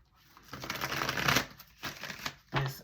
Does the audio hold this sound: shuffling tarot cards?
yes